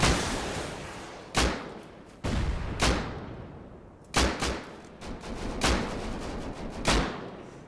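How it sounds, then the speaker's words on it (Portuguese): Rust gunfire during a PvP fight at an unlocked house: loud single shots and short bursts crack out at irregular intervals over about eight seconds, with bright sharp attacks and rumbling tails between them. "Vou dando cobertura daqui com os tiros."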